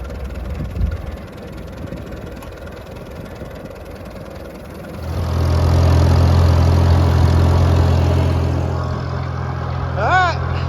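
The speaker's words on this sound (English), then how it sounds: "Nice when the tractor can drive itself." A farm tractor idles with a trailer hitched for hauling square bales; a deep, steady rumble swells in after a quieter stretch and holds close and loud to the end.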